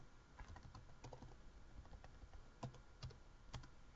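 Fingers type on a computer keyboard in a quiet room, tapping out brisk irregular bursts of close, soft key clicks with no voices.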